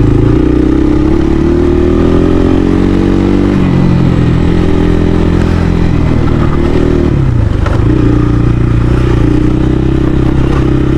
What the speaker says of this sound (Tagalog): Buti na lang nagkaroon ng ganito tayong motor na angkop sa mga ganitong lugar.